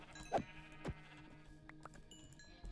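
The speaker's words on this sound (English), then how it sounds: "Is that sheep? Sheep." Sheep in Minecraft bleat twice in short succession, close and clear, followed by softer game sounds and faint clicks, with no talking.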